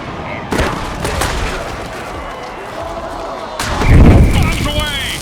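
Bomb explosions in the American football video game Mutant Football League, two sharp booming blasts a few seconds apart, the second heavier and rumbling, over crowd noise and commentary.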